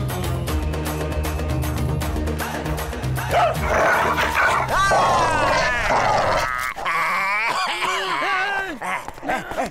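A dog barks and yips loudly and excitedly, mixed with whimpers and grunts, over busy background music with voices.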